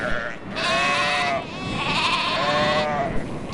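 A herd of sheep bleats on a Wyoming ranch, several loud wavering cries overlapping one another close by over a steady background rumble of the flock, with no pauses between calls.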